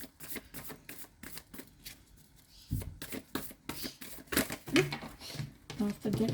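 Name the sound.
shuffling tarot cards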